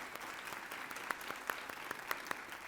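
An audience at an alumni awards night applauds with steady clapping, individual claps standing out sharply near the front of a dense, even round.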